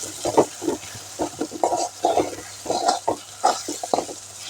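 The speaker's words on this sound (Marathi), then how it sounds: "यांना व्यवस्थित परतून घ्यायचं." Spices and salt sautéed in a pan for tendli (ivy gourd) sabzi, a steady soft sizzle broken by repeated scraping and stirring strokes close by, with no talk.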